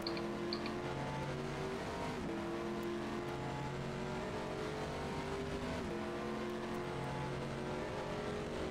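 A race car in the Automobilista racing game spins off into the gravel during an EEC Australian GT round. The engine drones loud and steady with a couple of sharp pitch dips and swells as the car slides, and no one speaks.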